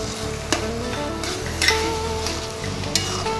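Hilsa fish heads dropped into cooking taro greens set off a steady, close hiss of sizzling, broken by a few light stirring knocks against the pan, with no voices.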